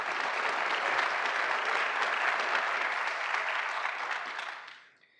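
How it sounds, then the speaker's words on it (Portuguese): An audience applauds minister Paulo Guedes with steady, dense clapping that holds for several seconds and then fades out quickly, no voices over it. "Palmas ao ministro Paulo Guedes."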